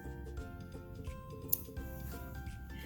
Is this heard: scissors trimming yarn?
yes